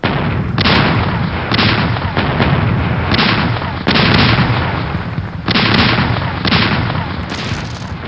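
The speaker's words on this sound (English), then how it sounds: "that's a pretty respectable broadside" A warship fires a cannon broadside in the naval wargame Mad for War, a rapid run of loud, close booms rolling one after another with brief gaps across the whole stretch.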